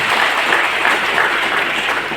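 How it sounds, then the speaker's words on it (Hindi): Loud, sustained applause from a crowd, a dense even patter of many hands clapping at once with no break. "और एक बार जोरदार तालियां होगी"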